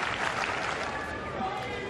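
Tennis crowd at a CiCi Bellis versus Zarina Diyas match applauding steadily, a dense wash of clapping that holds at an even level for the whole moment, with no voices standing out.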